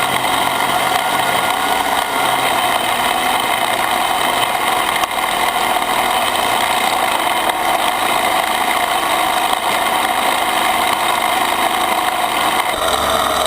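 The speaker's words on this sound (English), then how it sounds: "You take the blower whenever you come back and blow, try to blow that mulch back up into the bed" A leaf blower roars loud and constant at close range, blowing mulch off the grass back into a landscaped bed, its steady engine whine unbroken throughout.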